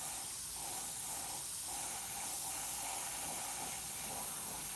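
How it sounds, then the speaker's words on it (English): An airbrush sprays paint onto a plastic scale model in a steady, soft, continuous hiss up close, with slight pulsing and no voices. "hold your airbrush at a distance and then just very evenly cover your model"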